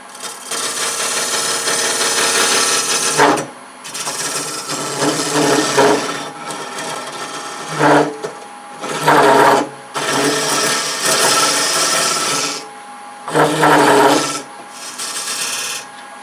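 A wooden pillar candlestick spinning on a lathe as a cutting tool runs down its side, a loud steady rasping whine in long passes broken by short pauses and bursts of rougher scraping.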